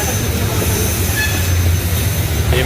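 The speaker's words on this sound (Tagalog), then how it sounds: "Nakasakay na rin sa MRT." A Manila MRT metro train rumbles loudly along the rails, a steady close roar with a brief metallic squeal near the end.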